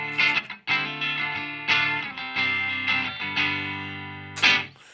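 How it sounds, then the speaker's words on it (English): Clean Strat-type electric guitar on the bridge pickup, sent through a Seeker Effects Lineage Face fuzz pedal set for a clean sound, plays a series of bright, ringing chords that each decay before the next strum. "It's just a really clean, typical Stratty type tone."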